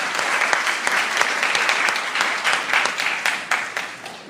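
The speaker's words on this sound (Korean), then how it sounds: "이럴 때 박수 한번 치셔야 되는데." An audience in a lecture hall applauds with dense, sustained clapping from many hands. It stays loud and even throughout, then tapers slightly at the end.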